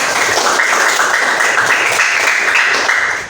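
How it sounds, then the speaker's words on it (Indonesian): Classroom students clap together in a loud, continuous patter of hands that holds steady for a few seconds before tapering at the end. "Tepuk tangan untuk kita semua."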